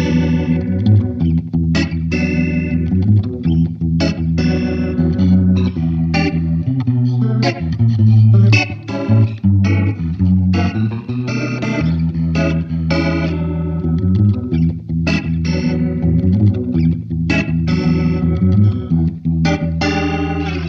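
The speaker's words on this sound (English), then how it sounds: "If you set the pedal to fast speed, you get the Hammond organ effect" Electric guitar plays a bluesy, funky chord riff through a Leslie simulator pedal set to fast speed, giving a Hammond organ-like swirl. The choppy, rhythmic strums are close and prominent, and no one speaks.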